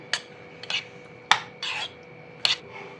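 A spoon scrapes and rubs against a bowl while bottle gourd raita with cooked gourd pieces, sugar and cumin powder is mixed, giving several short, close, gritty strokes separated by pauses, with no talk.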